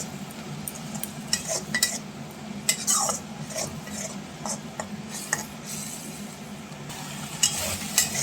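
Spice paste with coriander leaf paste being fried in a pan for a pomfret fish dish, a low sizzle under bursts of spatula scraping and metallic clinks that come in quick irregular clusters, with no voices.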